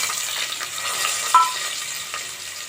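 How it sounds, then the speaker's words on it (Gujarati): Potatoes dropped into hot oil sizzle steadily in a pan, a close, fairly loud hiss with a brief clatter midway and no talking. "તો આપણું તેલ થઈ ગયું છે, બટેટા નાખી દઈશું."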